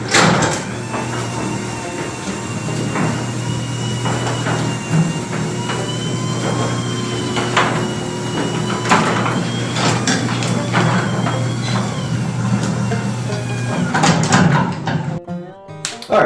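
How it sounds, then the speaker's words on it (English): A garage door runs with a continuous low motor hum and rumbling rattle for most of the span, punctuated by clanks and thuds, then stops abruptly near the end. "test and see if the garage door hits it,"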